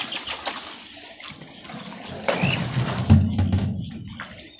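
Irrigation water runs through a corn field, a soft trickling flow close by with a few louder splashes and gurgles, bird calls and scattered rustling around it.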